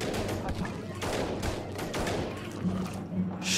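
Rapid gunfire from base defenses in the strategy game They Are Billions, a dense volley of quick shots with dull thuds, steady and moderately loud.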